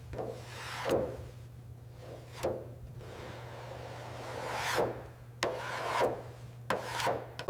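Sandpaper rubs by hand over the body panel of a white 2005 Toyota Land Cruiser under restoration, a quiet, close rasping in uneven back-and-forth strokes over a steady low hum.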